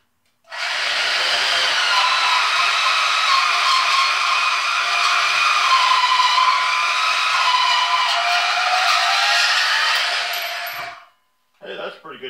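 A Bauer 1678E-B portable bandsaw cuts through 1/8-inch-wall, 3/4-inch steel angle, giving a loud, steady whining grind for about ten seconds that stops abruptly, followed by a few faint clanks.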